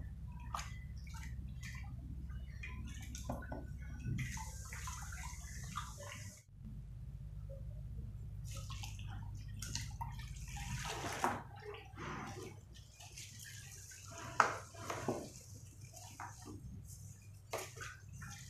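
Water sloshes and drips in a bucket mixed with a little shampoo for washing dusty flowers, quiet splashing and trickling bursts spread unevenly over a low steady background.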